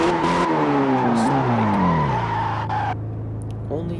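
Tires skid and squeal as a car swings through an e-brake 180 pivot in the Assoluto Racing video game, a loud continuous screech with the engine pitch sliding downward before fading near the end.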